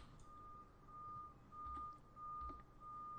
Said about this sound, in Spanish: estaréis escuchando el famoso pitido que no me deja dormir a veces por las noches